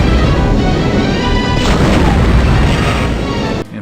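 A loud, sustained explosion blast from Star Wars: Dark Forces Remastered, a heavy booming roar lasting several seconds before cutting off abruptly.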